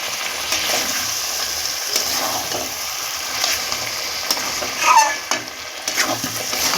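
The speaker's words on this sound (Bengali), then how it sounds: "আমি আবার নেড়ে দিচ্ছি। আলুগুলোর সঙ্গে মশলাগুলো মিশিয়ে দেবে।" Potatoes and spices for chicken biryani sizzle in a pan while being stirred, giving a continuous crackling fry with occasional spatula scrapes and clinks, heard alone without talk.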